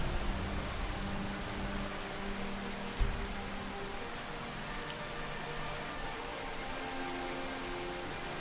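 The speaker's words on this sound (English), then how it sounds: "Okay, it's raining." Steady rain in Skyrim patters on surfaces with a soft hiss, a faint low hum underneath and one brief thump partway through.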